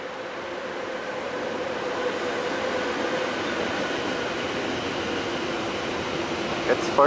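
A DB Cargo freight train passes through the station at Gemünden in the evening, a steady broadband rumble and wheel roar holding level throughout, with a brief sharp squeal near the end.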